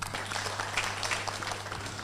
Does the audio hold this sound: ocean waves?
no